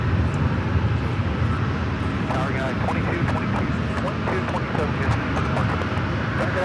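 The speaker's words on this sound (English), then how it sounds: "We finally got people just sitting here watching the planes." Aircraft engines at LAX airport roar in a steady, loud drone from planes nearby, while people talk underneath and faint chirps and rattles come and go.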